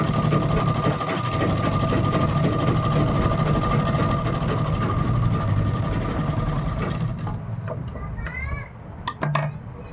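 A sewing machine stitches kurti fabric in a fast, steady mechanical rattle that runs loud and close for about seven seconds, then stops, with a voice heard faintly and a few short knocks near the end.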